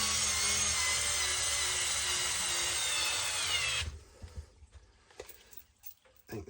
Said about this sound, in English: I did have to drill out the holes on the GPM bash bar.